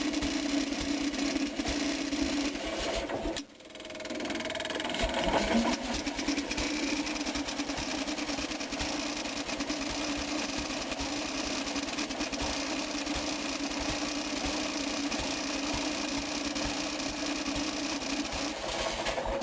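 A small Onan engine runs steadily with a constant mechanical drone while its carburetor mixture screw is adjusted, with a brief dip and stumble in speed early on before it settles back to an even, continuous hum.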